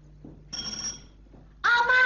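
An electronic telephone ring sounds twice: a short bright trill, a pause, then a louder, fuller ring near the end, with faint voices murmuring between.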